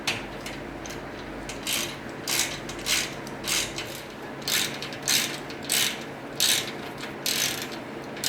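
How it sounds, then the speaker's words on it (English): Socket wrench ratcheting while tightening hardware for a garage overhead shelf install: repeated clicking bursts in a steady back-and-forth rhythm, close and distinct, with no voices. "finishing it off with the socket"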